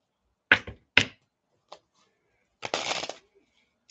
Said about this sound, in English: One more shuffle after this.